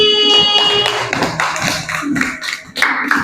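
Classroom applause for a pupil during a primary school lesson, a burst of many hands clapping close and loud, dense and continuous with a brief voice rising near the end.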